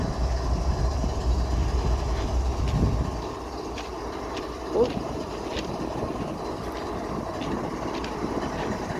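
A BNSF freight locomotive leading an auto rack train rumbles past with a heavy low drone that eases after a few seconds, leaving steady rolling rail noise and faint clanks.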